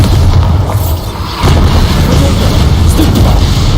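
A Bombarda blasting spell in Hogwarts Legacy goes off as a loud, heavy boom. Thick rumbling battle noise surrounds it and holds steady throughout.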